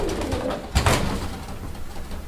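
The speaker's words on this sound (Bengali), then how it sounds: "সিঙ্গেল একটা কালারিং রাজগোল্লা কবুতর।" A Rajgolla pigeon coos loudly and close by, with one stronger burst of cooing partway through and steady murmuring around it.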